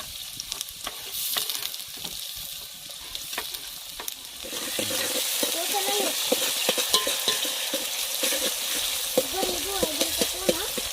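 Onion frying with garlic-ginger paste in a pan for a Kolhapuri-style bhaji, a steady sizzle with scraping stirs that grows louder partway through, and faint talk in the background.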